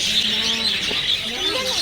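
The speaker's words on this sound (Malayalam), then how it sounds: "ഇതിൻ്റെ അകത്തും കുറേ കൊച്ചു കൊച്ചു കിളികളാണ്." Small birds chirping inside a zoo aviary in Mysore, a steady bed of bright, high twittering from many birds at close-to-mid distance with no talk over it.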